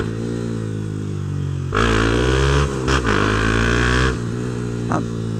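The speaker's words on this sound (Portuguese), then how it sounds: "A turma escuta o barulhinho da moto e se empolga pra..." Honda CB Twister motorcycle with a sport exhaust idles with a steady low rumble, then revs up loudly and close for a couple of seconds, dips briefly, revs again and settles back toward idle with a short blip near the end.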